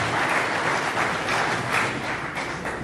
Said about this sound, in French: Nous pouvons acclamer pour le comité investi